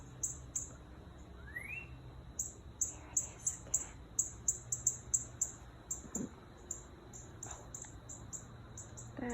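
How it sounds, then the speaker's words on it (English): A small bird in a potted herb garden gives a run of quick, high chirps in clusters, fairly near and clear, with someone speaking briefly and faint background sounds. "That little bird is making all that noise."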